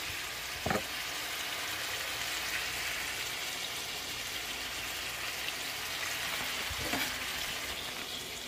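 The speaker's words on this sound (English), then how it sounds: "Got all that bacon there sizzling" Bacon sizzling steadily in a frying pan, a constant crackling hiss at moderate volume, with two faint clinks near the start and end.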